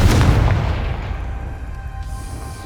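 A Confringo blasting spell explodes in Hogwarts Legacy: one heavy, booming blast strikes at the start and rolls away into a long, fading rumble over a couple of seconds, with no voices.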